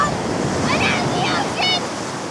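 Ocean surf washing onto a beach and drawing back, a steady broadband wash with wind noise, while voices talk faintly over it.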